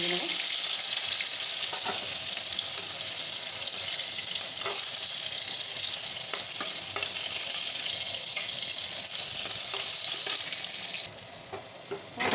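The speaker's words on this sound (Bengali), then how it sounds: "পটলগুলো ভাজা হয়ে গেছে আমি এবার তুলে নিলাম" Continuous crackling sizzle of salted pointed gourd frying in hot oil, loud and close, with occasional stirring clicks.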